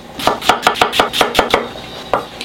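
A knife slices through an apple on a table, giving about eight crisp, evenly spaced chopping taps that land close to the listener, then a short pause and two more cuts.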